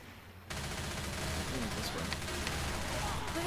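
Rapid gunfire crackles continuously while zombies are shot in Left 4 Dead 2 on Xbox One at a Dark Carnival level, a dense, loud burst of automatic shooting that starts abruptly and keeps going under game noise.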